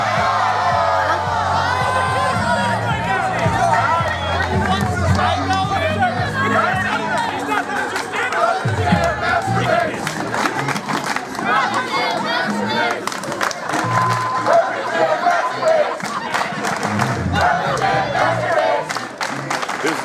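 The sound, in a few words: university crowd chattering and cheering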